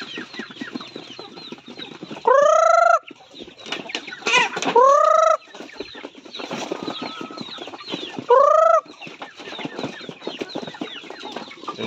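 Native chickens in a farm enclosure cluck continuously nearby, with three loud drawn-out calls standing out and bursts of wing flapping mixed in.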